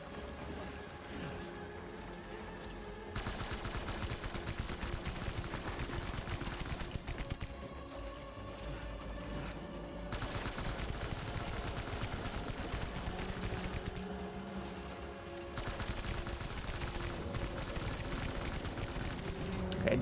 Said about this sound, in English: I'm gonna shoot this fish.